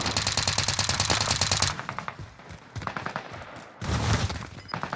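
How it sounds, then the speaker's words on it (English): Rapid automatic gunfire from a Call of Duty Warzone match, loud and dense bursts at the start, a quieter stretch of scattered shots, then another heavy burst near the end. "Someone else is shooting him."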